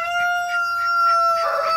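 Chickens give short, repeated clucking calls at a regular pace, fairly close, over a steady high electronic-sounding hum, ending in a slightly louder, busier burst.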